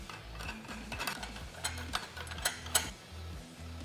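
A nut being tightened on a Polaris General clutch with a spring compressor fitted, giving a quiet, steady run of rhythmic ratcheting clicks from a close tool, with no talking.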